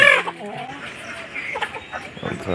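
Backyard hens cluck close by in a rural home, a few short clucks and squawks scattered across the moment with a louder call at the start and quiet background noise between.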